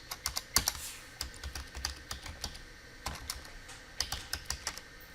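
Fingers tapping out a command on a computer keyboard, a quick irregular run of close, light key clicks in short bursts with brief pauses between.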